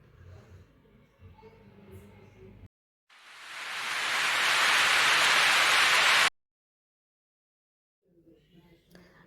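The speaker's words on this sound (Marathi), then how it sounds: "पुण्याच्या दिशेने जाताना रस्त्यात एक छोटा धबधबा दिसला" Steady broadband rushing of a small roadside waterfall, loud and close, swelling in for a few seconds between stretches of quiet talk and roadside noise.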